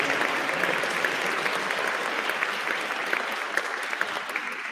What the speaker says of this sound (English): So please short applause for all of the modules.